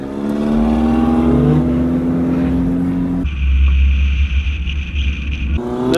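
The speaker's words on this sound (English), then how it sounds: "we're figure eight racing. We're getting ready to go." Figure-eight race car engines roar loudly and close by, one revving with rising and falling pitch before shifting to a steadier high drone, then revving up again, with no voices over it.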